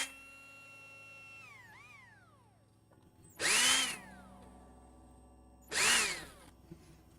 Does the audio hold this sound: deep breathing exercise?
no